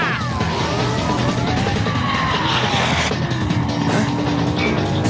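A cartoon spaceship engine revs loudly with rising and falling whooshing and whining tones over a dense, constant roar, and faint skidding squeals are mixed in.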